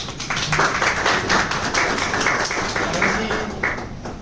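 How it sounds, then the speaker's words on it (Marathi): An audience claps for the film team at an event for the Marathi friendship comedy film Yaari, a dense, steady burst of applause lasting a few seconds without pause. "पहिल्यांदा आपल्या टीम साठी जोरदार टाळ्या वाजवल्या पाहिजेत"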